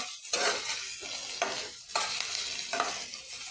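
Onions sizzle in a hot pan while a spoon stirs and scrapes them in quick, repeated strokes, the hiss surging with each pass at close range.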